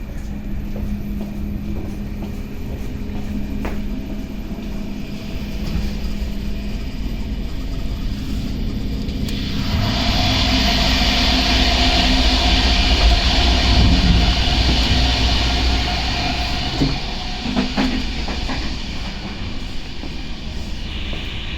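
Danish DSB class ME diesel locomotive hauling a passenger train, a steady loud rumble of engine and wheels on rail that swells to a louder roar with a rising hiss midway, then eases back, no talk.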